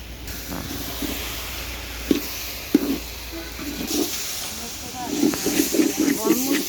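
Grated carrot halwa sizzles and hisses in ghee in a pan, a steady frying hiss with occasional louder pops and spits, fairly close, while a person talks over it at times.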